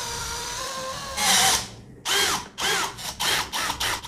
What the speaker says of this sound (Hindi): तो सबसे पहले हम इन स्क्रू को खोल लेते